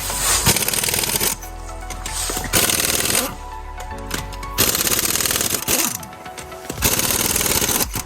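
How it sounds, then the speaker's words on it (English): Loud, rapid rattling bursts from a tool spinning the lug nuts off a Mini Countryman wheel, arriving in several separate runs with short pauses between them, close up and with no talking. "take the lugs off of the wheel"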